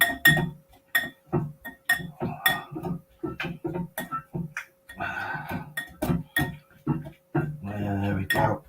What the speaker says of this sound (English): Let's try this with the whisk.